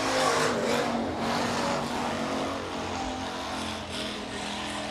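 Hobby stock race car on a speedway, a loud continuous roar of the engine at speed with surging pitch as it laps the track, heard alone without talk.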